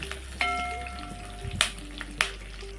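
Curry leaves dropped into hot oil for a tomato curry, giving a few sharp crackling spits over a low steady frying hiss and a faint background hum.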